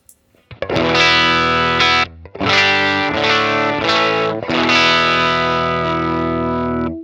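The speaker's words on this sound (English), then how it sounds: "We're going to switch over to the stock Jensen P12R." Distorted electric guitar chords through a Universal Audio UAFX Woodrow '55 amp and stock Jensen P12R speaker ring out loud and sustained, with a brief gap before the next held, gritty chords.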